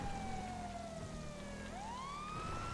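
A police car siren in GTA with the LSPDFR mod wails steadily, its tone sliding down and then rising again, loud and continuous over a rain-like wash of background noise.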